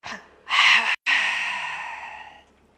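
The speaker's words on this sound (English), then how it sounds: "take a nice big breath out through the mouth" A long, deliberate exhale through the mouth during a guided yoga breathing exercise, close and breathy: a short breath, then a strong outward rush, a brief pause and a long steadily fading sigh.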